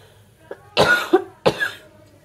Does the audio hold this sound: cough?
yes